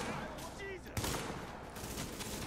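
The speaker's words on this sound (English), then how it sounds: "let's go and switch to this shotgun right here" A shotgun fires in The Division, a video game, with a sharp blast near one second followed by a heavy rumbling tail, while a voice talks faintly over the scene.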